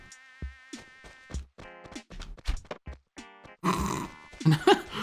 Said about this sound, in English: now I know what a grasshopper sounds like